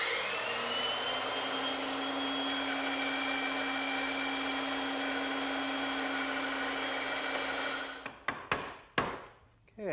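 A bandsaw runs steadily with a loud, even whine as it cuts through wood in a workshop, then goes quiet near the end, followed by a few sharp knocks and clatters.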